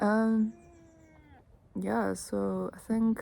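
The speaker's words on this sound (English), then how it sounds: "Excuse my cat, you may hear him asking for his lunch." A pet cat meows repeatedly close by, a long drawn-out cry followed by several shorter insistent meows asking for lunch, while a person briefly speaks between them.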